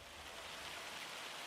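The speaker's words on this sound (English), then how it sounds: "And we have the rain. Oh, no, it's hail." Rain and hail fall in the Farming Simulator 25 video game, a faint but continuous even hiss of drops pattering on surfaces, with no talk.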